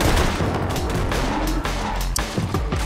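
Gunfire in Borderlands 2 pounds out in a fast, heavy, continuous barrage of shots and booming impacts, loud and close with no voices.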